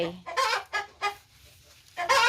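Several close, loud clucks from egg-laying hens in short bursts, with a brief quiet gap before more clucking.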